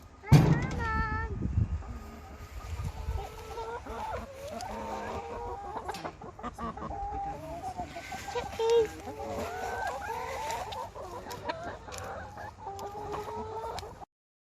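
Nervous chickens cluck and chatter continuously around a treadle feeder, close by, with occasional louder calls, while a person talks over the flock.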